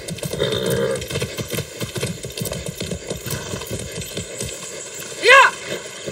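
Hooves drum in a quick, steady galloping rhythm as a horse runs in Far Cry 6, fairly close and continuous, ending with a sharp whinny near the close.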